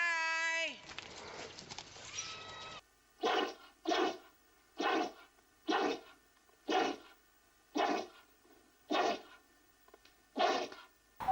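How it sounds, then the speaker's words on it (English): Pet sneezing several times in a row, a series of short, sharp bursts spaced about a second apart, close and fairly loud, coming after a brief stretch of other noise. "Sneeze. Sneeze. Sneeze."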